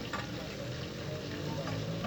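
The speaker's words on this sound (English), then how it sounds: "While fish is frying and smelling very, very nice." Fish frying in a pan gives a steady, close hiss and crackle of hot oil throughout, with no talk.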